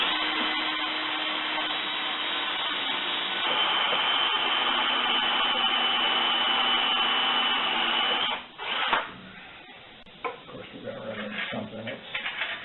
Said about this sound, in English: Going to drill it for a quarter 20 hole.